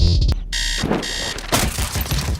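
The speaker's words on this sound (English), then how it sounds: "The faint sounds of your alarm start to become more and more prevalent with time." An alarm clock rings with loud, insistent electronic beeping in repeated bursts that carry through the whole short stretch, with no talking.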